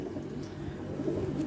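A pigeon coos softly in low, rounded murmurs, close by and fairly quiet, against a faint background with no talk.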